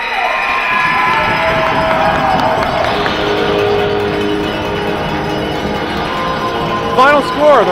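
A crowd cheers loudly at the end of a hockey game between the Bradford Rattlers and the Almaguin Spartans, a continuous roar with shouts and whistles, and a siren-like horn rising near the end.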